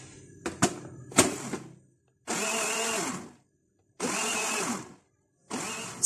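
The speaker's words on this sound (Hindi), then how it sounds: "अब इस सबको हम ब्लेंडर के अंदर ब्लेंड कर लेंगे दोबारा से।" Electric blender whirring through a strawberry drink with sugar, black salt and lemon juice, in three loud steady bursts of a few seconds each with pauses between, after some brief clattering knocks at the start.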